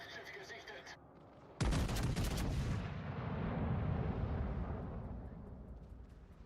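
Heavy battleship guns firing in a naval video game: a sudden loud blast, then a long rolling rumble, with faint earlier sounds before it.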